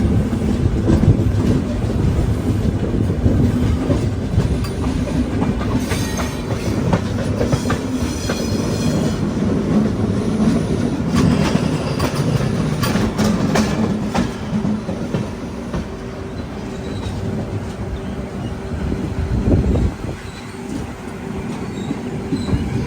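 A Vande Bharat train rolls past at Jolarpettai railway station, a loud, steady rumble of wheels and carriages with rhythmic clatter and brief squeals, continuous for the whole stretch with no talk.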